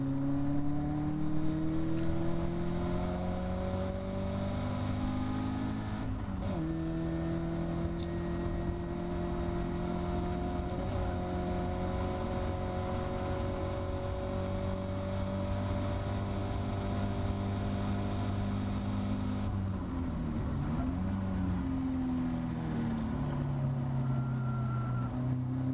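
Caterham Academy race car engine droning steadily at Thruxton circuit, a loud close onboard tone holding pitch with a brief dip and shift around mid-lap as it weaves past a spun car, then rising again.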